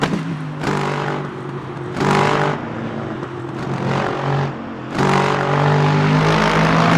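Race car engine in the sim racing game Le Mans Ultimate, a loud, gruff, tractor-like drone that surges with repeated acceleration bursts and downshifts, heard alone without talk.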